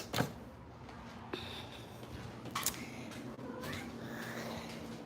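A house cat meows in a quiet indoor room: one brief cry near the start, then a couple of shorter, fainter calls later. A low steady hum sits underneath.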